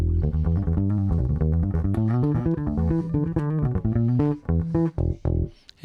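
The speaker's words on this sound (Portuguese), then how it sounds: "Esse é o som do Precision" Precision bass guitar strung with very old, worn strings, played as a steady stream of clean, dull-toned plucked notes in a busy bass line, close and loud, with no talking.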